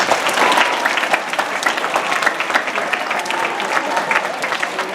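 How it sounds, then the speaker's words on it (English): An audience of kids gives 4-H ambassadors a round of applause, a dense, loud wash of many hands clapping together, steady throughout with faint voices beneath. "give them another round of applause"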